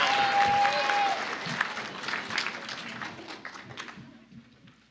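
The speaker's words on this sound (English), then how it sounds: "Give yourselves a round of applause." Applause from the audience at a Battle of the Books school reading competition, a dense wash of clapping that stays loud and steady before thinning out toward the end, with a brief tone near the start.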